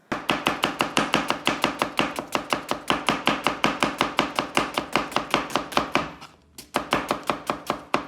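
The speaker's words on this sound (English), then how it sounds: "So take a simple skill like chopping onions" A knife chops onions on a cutting board in rapid, steady, close-up strokes, about four per second, with a short pause near the end before the chopping resumes.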